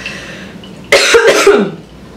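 A loud, close cough in two or three quick harsh bursts after a quiet moment.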